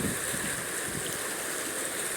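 Water rushes steadily through an opened sluice gate of a reservoir, a continuous, dense roar without pauses or voices.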